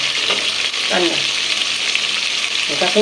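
Onion and green chilli frying in oil in a pan for an eggplant dish, a steady loud sizzle throughout with brief stirring scrapes, no talking.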